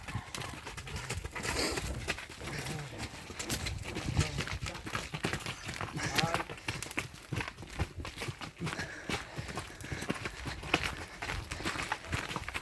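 Continuous uneven hoofbeats from two unshod mares and a filly walking along a wide street, mixed with bird calls and general outdoor bustle; a voice occasionally speaks.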